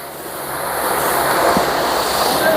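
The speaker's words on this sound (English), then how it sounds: "So this is really a beautiful waterfall." A steady, broad rushing roar of a waterfall on the way to Namche Bazaar, Nepal, fills the scene, constant and loud without pause.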